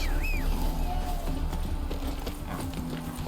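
Roach, the horse in The Witcher 3, gallops in a quick rhythmic clip-clop of hooves under game music, close and steady.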